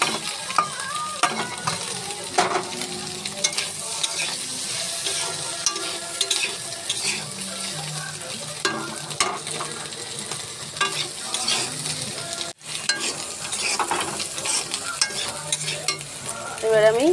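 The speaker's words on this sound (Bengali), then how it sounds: "এবারে আমি ডিম আর পেঁয়াজ দিয়ে দেবো" Eggs and onion sizzle in a pan alongside already-fried potatoes while being stirred, a steady close frying hiss broken by repeated scraping and spatula strokes, with no talking.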